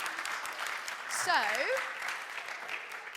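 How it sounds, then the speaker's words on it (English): Applause from a church congregation during a Sunday sermon, a steady broadband patter of many hands that holds through the clip, with a brief rising whistle or whoop in the middle and a voice speaking briefly. "Can you just give these guys a round of applause for sharing bravely?"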